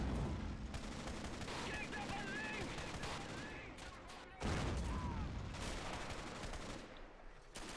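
Bursts of machine-gun fire ring out in the World War II strategy game Men of War: Assault Squad 2 during an Axis sea invasion of Crimea, dense and continuous rattling with explosions, loud and sustained throughout.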